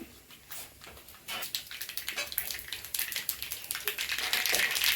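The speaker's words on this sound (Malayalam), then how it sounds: "കടുക് നന്നായി പൊട്ടുന്നുണ്ട് കേട്ടോ" Mustard seeds pop in hot oil with rapid, sharp crackles that grow denser and louder toward the end, heard close and with no talking.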